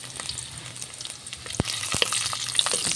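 Chopped garlic frying in a pan while cooking menudo, a steady soft sizzle with a few sharp clicks of utensil against the pan, moderately close.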